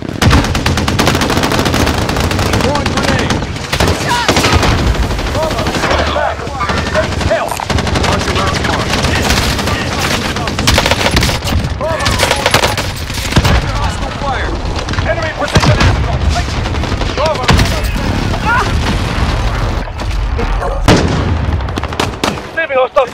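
Rapid M4A1 rifle bursts and heavy Barrett M82 sniper shots from Call of Duty Warzone gameplay, loud and continuous with dense overlapping gunfire, booms and battle noise throughout.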